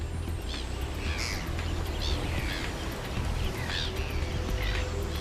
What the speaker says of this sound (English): The gulls eat on the fly